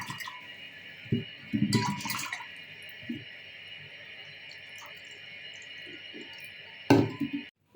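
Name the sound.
washing moong dal in water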